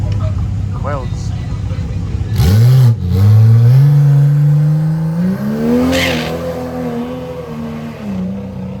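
A Toyota Supra on welds at a drag strip revs hard, its engine note climbing in pitch and holding loud and close for several seconds, with voices talking over it.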